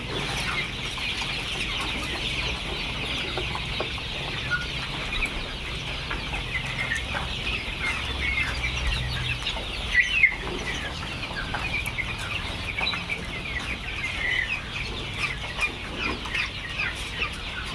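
Tiger chickens cluck steadily on a chicken farm in Khulna, a busy flock murmuring and clucking nearby with a few sharper calls standing out over the continuous hum of the shed.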